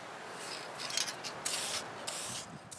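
An aerosol can sprays a coat of polyurethane onto the wooden shoulder stock of an MG-34 replica prop, several short hissing bursts of varying length, close and fairly soft, with brief gaps between them.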